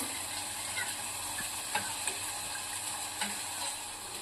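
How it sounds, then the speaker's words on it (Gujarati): Turmeric is stirred into buttermilk for kadhi: soft, quiet swirling with a few light spoon clinks against the vessel, alone and close. "આપણે છાસમાં અડધી ચમચી જેટલી હળદર નાખીશું અને મિક્સ કરી લઈશું"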